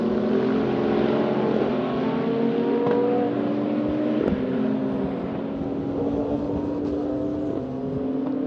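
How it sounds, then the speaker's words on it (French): An Audi R13 DTM race car on a circuit at Magny-Cours sends up a loud, steady engine drone with shifting pitch as it runs on track, with no talk over it. "cette Audi R13 DTM fonctionne parfaitement"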